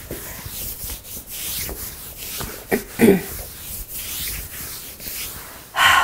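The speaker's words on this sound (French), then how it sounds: "on va plier les jambes, on va frotter un petit peu, on frotte autour des genoux ici." Hands rub around the knees during a hatha yoga self-massage, giving soft, steady, repeated rubbing strokes up close, with a few slightly louder brushes near the end.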